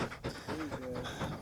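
A chained dog during a goose hunt in Manitoba pants in quick rapid breaths at close range, with muffled outdoor noise and speech mixed in.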